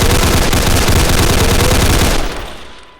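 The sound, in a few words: gunfire in the video game Roblox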